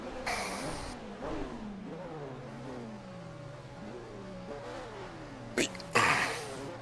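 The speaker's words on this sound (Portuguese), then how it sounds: "Se o motor está a trabalhar, parece que sim." A BMW CSL 3.5 racing car's engine runs in a racing video game at Kyalami, revving up and down through repeated rising sweeps at steady moderate loudness, with a few brief bursts of noise near the end.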